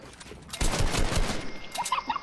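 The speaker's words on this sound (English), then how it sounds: "Trent shot his own wall." Gunfire in the Fortnite video game as a player shoots a wall: a short, rapid burst of shots lasting about a second, fairly loud and close, then a faint chirpy sound trailing after.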